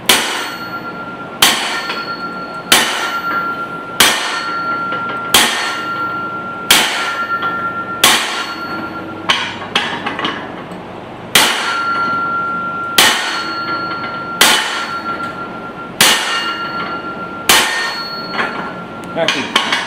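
A 6-pound sledgehammer strikes steel while forging a small axe, ringing out in about fourteen loud, evenly spaced metallic clangs, each with a short bright decay, close up.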